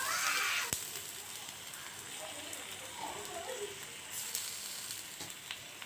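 Spiced fish frying in a banana leaf in a pan, village style with little oil: a steady soft sizzle and crackle throughout, with a sharp tick or two and occasional faint background noise.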